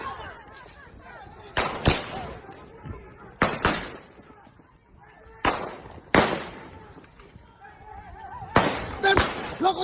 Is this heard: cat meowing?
no